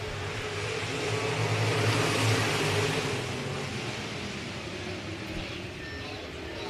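Dirt track race cars roar as the field accelerates on a restart, a dense, loud engine wash rising and holding steady with no pause throughout.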